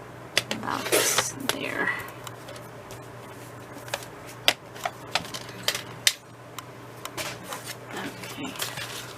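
Scissors cut off the bottom of a clear plastic pocket for a B6 TN folder. Irregular close snips and crisp clicks come over several seconds, mixed with handling rustle, while a person talks.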